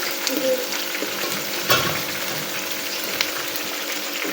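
Okra frying in a pan during home cooking, a steady close sizzle with faint stirring scrapes and a couple of brief clinks, no talking.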